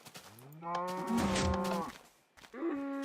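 Cows in the Minecraft video game low out in two drawn-out, tonal moos, the first long and full, the second starting after a brief pause, close and fairly loud with no talking.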